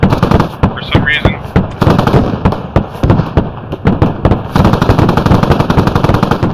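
Rapid gunfire in the tactical shooter game Squad, loud sharp shots fired in quick bursts with brief gaps, dense and close, a bit of voice chatter faintly underneath.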